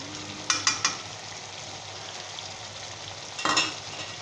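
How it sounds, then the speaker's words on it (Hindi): Tomato boondi masala being stir-fried over raised heat, a few short scraping stirs near the start and again later over a steady low sizzle, no voices. "अब यहाँ पे हम थोड़ा सी आंच तेज़ कर देंगे और हल्के हाथ के साथ इसे भूनेंगे"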